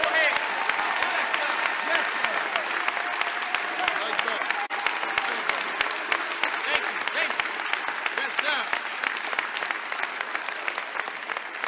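A large audience claps in praise during a sermon, a long sustained wave of dense applause with shouting voices woven through it.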